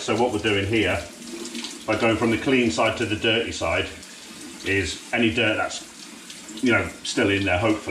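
Water from a tap runs through a pleated K&N air filter as it is rinsed, a steady splashing stream under someone talking close by.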